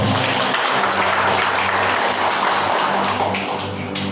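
A church congregation applauds during a sermon in Guarani, producing a loud, dense, steady wash of clapping that fills the whole stretch and eases slightly near the end.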